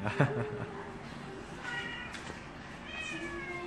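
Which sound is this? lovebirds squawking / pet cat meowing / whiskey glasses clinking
pet cat meowing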